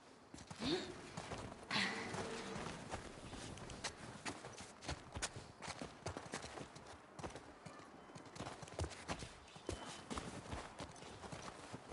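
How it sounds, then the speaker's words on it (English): Horse hooves clip-clop steadily at a walking pace in The Last of Us Part II Remastered, over a dense, noisy background, continuing throughout at a moderate level. "The horse's name is Japan."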